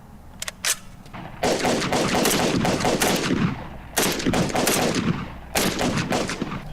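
Several loud rifle shots from an FN49 firing 8mm ammunition, two sharp cracks followed by sustained rapid bursts of gunfire with brief pauses between volleys, close and alone without talk.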